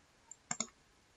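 A short, quiet pair of mouse clicks selects a delete menu item, sharp and close, preceded by a faint lighter tick, in an otherwise quiet room.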